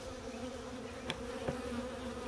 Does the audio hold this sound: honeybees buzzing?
yes